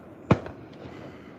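A single firework bursts at night with a sharp, moderately distant crack followed by a brief crackling echo, then quiet background.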